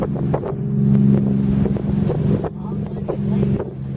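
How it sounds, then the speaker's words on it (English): A 46-foot Grand Banks trawler with Detroit Diesel engines rumbles steadily nearby, its low droning throb running throughout under wind buffeting the microphone. "Definitely Detroit Diesels."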